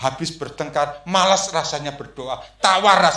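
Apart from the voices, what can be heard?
No everyday noise stands out behind the speech.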